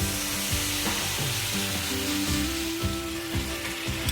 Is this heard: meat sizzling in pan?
yes